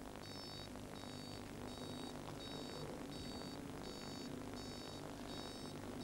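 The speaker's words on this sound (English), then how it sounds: "So that type of detector is much more efficient than the conventional one, and it gives you much more advanced warning that there is a fire." A fire detector alarm sounds in a repeating pattern of short, evenly spaced high electronic beeps over a steady low hum, moderately faint and without voices.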